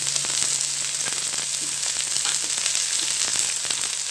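Garlic sizzles and fries steadily in hot oil for tindi dal chana, a dense continuous crackle with occasional sharper pops, close and even throughout with no talking.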